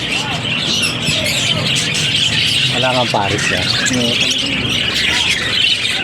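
Several birds squawk and chirp close by amid steady background chatter, with a person speaking over the noisy calls.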